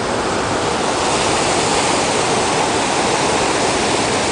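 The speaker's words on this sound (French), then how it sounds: "Les vagues sont provoquées par le corail." A loud, steady roar of ocean waves breaking on coral off a beach at Saint-Pierre, Réunion: dense broadband rushing water with no pauses, close and continuous.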